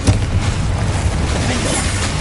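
Explosive blast from the Confringo spell in the wizarding game Hogwarts Legacy: a loud, rumbling burst that sustains as a dense roar across the whole moment, with no voices.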